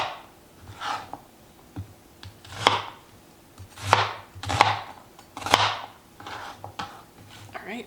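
A knife chops vegetables into large pieces on a board, giving about a dozen irregular thuds, some louder and sharper than others, close by with no talk.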